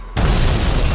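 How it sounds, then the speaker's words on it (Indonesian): A planted bomb detonates in an anime scene, a sudden loud blast after a brief quiet moment that then roars on as a dense, rumbling wall of noise until the end. "bom yang dipasang oleh Umine juga telah meledak"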